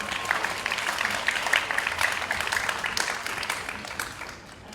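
Audience applause at a 2019 business model research presentation contest, welcoming the school principal; steady moderate clapping throughout, fairly dense and mid-distance, tapering slightly at the end.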